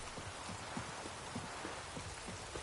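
Steady rain in The Witcher 3, a dense even hiss of falling drops with faint low pattering, continuous and moderately quiet with no voices.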